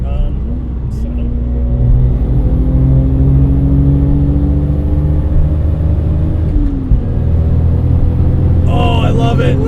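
A turbocharged 2JZ-swapped Lexus IS300 pulling hard from inside the cabin, a loud steady engine drone climbing in pitch, easing off briefly and then building again, with a short gear-change break near the end.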